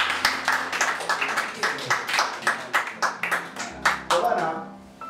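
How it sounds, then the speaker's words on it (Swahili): A small group claps hands in a steady, rhythmic beat of distinct claps at close range for about five seconds. Some voices are heard faintly underneath. "Tupige makofi."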